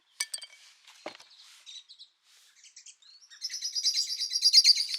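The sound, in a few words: blackbirds calling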